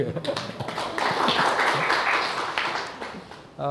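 Audience members at a lecture on reading the Analects break into clapping that swells to a dense, loud patter in the middle and tapers off, with some voices underneath.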